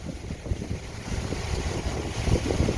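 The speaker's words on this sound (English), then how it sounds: "As you can see from this wind, it's kind of neat." Wind blows across an open farm field after oats were cut, a steady rushing gust that buffets the microphone and rises slightly toward the end, with no talk.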